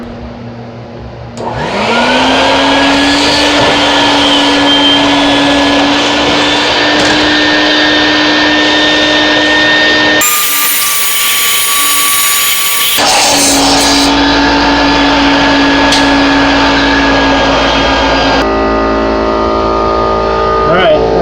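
A loud, steady vacuum roars continuously, its pitch shifting as the nozzle sucks scraped carbon debris from the intake runners of a 2011 VW Mk6 GTI engine, briefly choking, then clearing.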